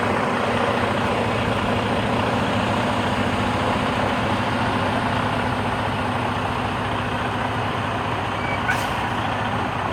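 A truck pulling a trailer backs up in a straight line, its engine idling with a steady low rumble and drone close by, an even continuous sound with a brief air-brake hiss near the end.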